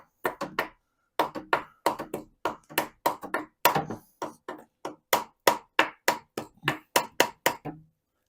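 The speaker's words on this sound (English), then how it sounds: "Let me see if the hammer can hit it from there." A hammer strikes a metal tab on a VW Beetle swing-axle transmission, a close, sharp series of about two dozen blows in quick, uneven bursts with brief pauses between them.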